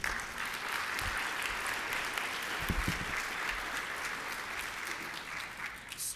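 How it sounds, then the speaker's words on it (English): Audience applause at a panel discussion on science outreach, a steady, dense clapping from a room of listeners that holds evenly for about six seconds before tapering slightly at the end. "round of applause, please"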